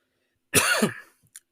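A single harsh cough bursts out after a moment of silence, followed by a faint breath or small click; close and fairly loud.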